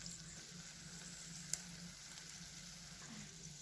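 Alu vadi frying in oil on a flat pan, a soft, steady sizzle with a single crisp tick partway through, close but quiet and uninterrupted by speech.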